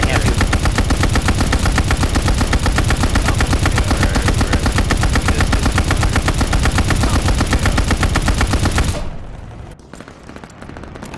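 A turret machine gun in Call of Duty Vanguard fires a loud, rapid, unbroken burst for about nine seconds, then cuts off abruptly into quieter game ambience.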